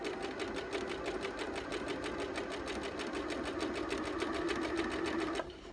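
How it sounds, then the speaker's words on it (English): A sewing machine runs a zigzag stitch along the edge of fabric, a close, rapid and evenly ticking mechanical whir that holds steady for several seconds and then stops abruptly. "Set your sewing machine to do a zigzag stitch."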